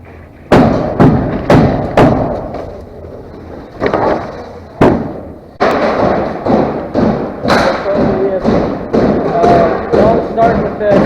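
Nail guns fire into plywood sheets on walls and a ceiling during a renovation, loud close thuds and pops spaced a second or so apart, some in quick pairs, against a low hum of room noise.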